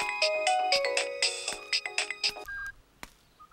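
Mobile phone ringtone for an incoming call, a bright melodic sequence of quick electronic notes up close, ending with a few short tones.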